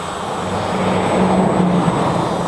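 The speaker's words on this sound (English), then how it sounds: "So here's a throttle punch." GTeng T901C tiny RC quadcopter drone motors punching up under throttle, a steady close whirring buzz with a brief rise in pitched motor whine, no talk.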